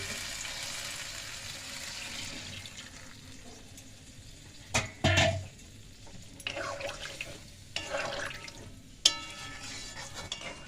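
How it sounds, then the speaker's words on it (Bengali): Broth being poured into pangas fish curry in a pan, soft sizzling under a few sharp splashes and pours, then scraping stirs and a clunk, fairly quiet and close. "ঝোলটা দিয়ে দিছি পরিমাণ মতো"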